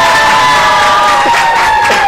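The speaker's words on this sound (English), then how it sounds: "Please, can you clap for them?" A large studio audience at a TV show cheers and shouts loudly and continuously, with excited whoops rising above the roar throughout.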